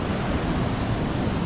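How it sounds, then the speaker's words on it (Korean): Ocean surf washes steadily onto the sand at Daecheon beach in South Korea, a continuous broad hiss with a little wind, close and fairly loud, with no voices. "잠깐 멈춰서서 이 파도 소리 조금만 더 듣고 가겠습니다."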